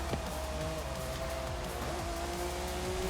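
In Forza Horizon 5, a car goes back to full throttle, the engine winding up through quick gear shifts into a steady, moderately quiet roar with some tire noise.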